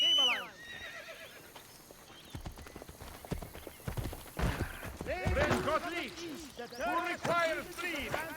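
A horse in the Assassin's Creed Brotherhood video game whinnies several times as its hooves clip-clop closer and louder, while someone talks over it.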